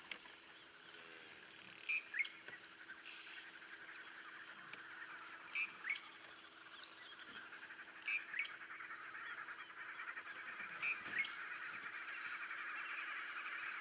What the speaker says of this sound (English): A local flock of guinea fowl scratching around for insects and seed.